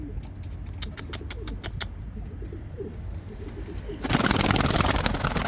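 A pigeon coos softly at close range over steady background hum, its calls blending with faint chirps, before a burst of broadband noise swells up in the last second or so.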